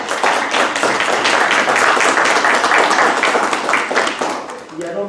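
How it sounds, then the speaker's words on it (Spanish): Strong, close applause from a workshop audience on engineering education quality welcoming the facilitator, a full wash of many hands clapping that holds steady and then tapers off near the end. "recibir a nuestro facilitador con un fuerte aplauso"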